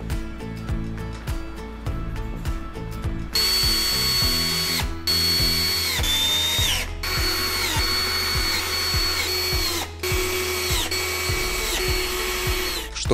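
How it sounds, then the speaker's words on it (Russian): A power drill drives self-tapping screws into the rails of a single bed frame during assembly, with loud, close whining bursts that rise and stop in several separate runs, separated by brief pauses. "крепит их с помощью саморезов из комплекта фурнитуры"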